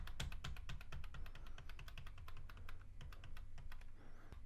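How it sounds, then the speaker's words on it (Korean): Rapid clattering taps on a computer keyboard as the Alt and Tab keys are pressed repeatedly, close and quiet, with a low hum in the background. "알트를 누르고 있는 상태에서 이렇게 눌러도 상관이 없어요"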